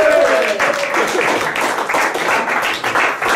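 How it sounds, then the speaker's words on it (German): Lively applause from a crowd at a fan-scene talk evening as a guest is called onto the stage, loud and close with uneven bursts of clapping, a voice briefly audible at the start. "Und mit einem riesen Applaus bitte."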